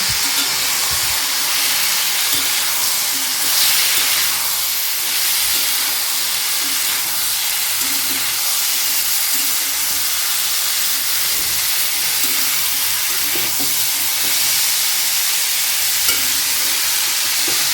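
Chopped tomatoes sizzling and frying in a hot pan over high heat for a pumpkin dish, a continuous bright hiss with faint crackles and occasional stirring, steady and close with no talking.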